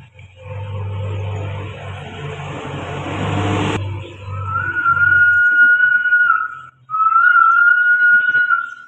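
A voice imitates a railway train, starting with a low rumbling chug and then shifting to two long, loud, sustained whistle blasts with a short break between them, close and alone without speech.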